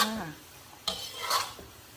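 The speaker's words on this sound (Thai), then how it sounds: "แล้วก็คลุกเคล้าส่วนผสมให้เข้ากันค่ะ" Stir-fried stink beans with fresh shrimp and minced pork being tossed and scraped around a pan, a few short rasping stirs and utensil scrapes close by, with no talk.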